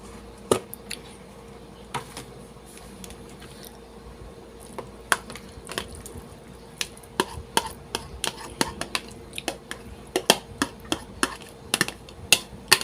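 Buko pandan salad with gulaman being stirred together in a bowl, giving a string of irregular soft clicks, taps and squishy knocks that grow a little busier toward the end, with no talking.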